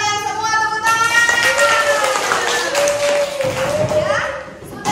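Children in a classroom clap together after group presentations, a steady burst of applause mixed with excited young voices and a sung or called tone rising over the noise, fading toward the end.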